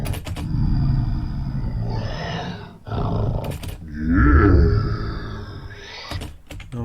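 Deep, rumbling lion roars with throaty, trailing growls, in several bursts separated by short pauses, loud and close.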